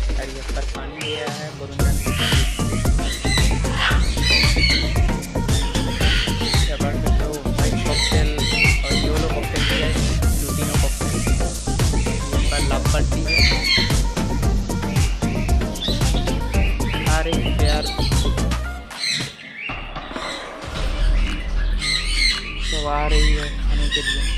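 Parrots, including rainbow lorikeets, squawk and chirp continuously at a bird farm, a dense, loud, overlapping chorus of harsh calls close by, with brief pauses near the end and a person speaking under the din.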